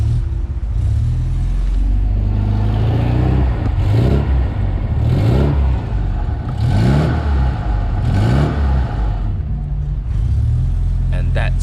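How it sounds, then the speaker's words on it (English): A 1979 Alfa Romeo Alfetta 2.0 engine is blipped repeatedly, loud close revs rising and falling in several surges over a steady idle, with someone talking throughout. "And that's what I love about Alfa Romeos. That sound."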